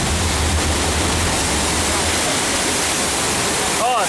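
Water gushes loudly from a burst water main in a crashed-subway theme park ride effect, a steady, broad rushing roar throughout.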